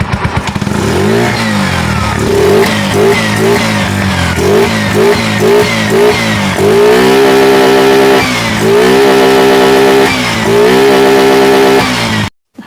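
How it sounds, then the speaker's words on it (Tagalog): A Bajaj motorcycle engine, freshly serviced with its valve tappets adjusted, revs up and down repeatedly, loud and close, with rising and falling pitch across a dozen seconds before cutting off. "balik normal na yung kanyang pwersa ng makina"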